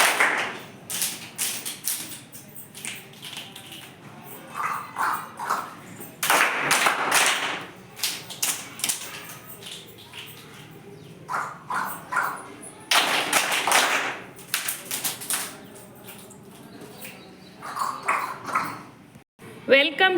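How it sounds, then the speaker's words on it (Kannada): Children clap in rhythmic patterned bursts in a Nali Kali primary classroom, sharp group claps in short clusters separated by gaps, with voices talking between and around them. "ನಲಿ ಕಲಿ ಚಪ್ಪಾಳೆ. 1 2 3 ಸ್ಟಾರ್ಟ್."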